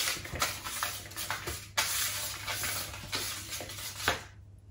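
A mixture stirred together in a bowl, with irregular scraping and clattering knocks of a utensil against the sides over a constant hiss, ending abruptly.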